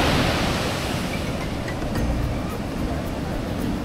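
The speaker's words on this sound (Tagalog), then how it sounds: "ang lalakas kasi ng alon guys. Guys, look at this beautiful waves." Loud, continuous roar of heavy ocean surf crashing nearby on a La Union beach in the Philippines, a broadband wash of breaking waves with wind noise buffeting the microphone.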